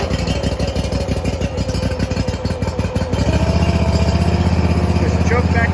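Barreto 20RTK trencher's small engine fires up and runs: uneven sputtering at first, then a steady, loud idle with a continuous low rumble and rapid pulsing throb.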